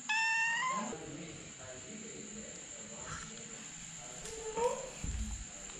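A cat in a house in Laos, one of a few being fed tuna, gives a loud, close meow at the start, then a shorter, softer meow a few seconds later over quiet background noise.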